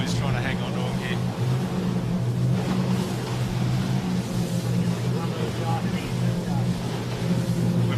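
A camera boat's engine drones loudly at full throttle while chasing sailing crews through waves, a steady low mechanical roar with wind and water noise, close and continuous, with voices talking over it.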